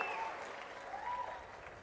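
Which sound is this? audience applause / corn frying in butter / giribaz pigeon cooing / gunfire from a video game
audience applause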